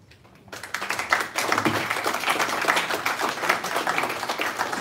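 Audience applause at a citizens' summit, where resolutions are being read out, swells after a quiet start into steady, dense clapping from a sizeable crowd that carries through to the end.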